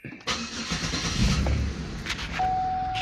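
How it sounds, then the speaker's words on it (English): A GM Buick 3800 3.8-liter engine with a no-start fault cranks and catches, then settles into a steady idle, close and fairly loud. A faint tone rises near the end. "Now when I start the engine,"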